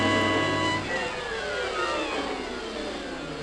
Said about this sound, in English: That's a great car.